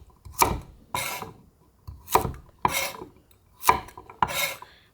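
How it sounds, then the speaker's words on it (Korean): Knife cutting through chestnuts on a board for a Korean fruit salad, six distinct rasping slices in a steady rhythm, close and moderately quiet, with no voices. "밤도 그냥 썰어주세요."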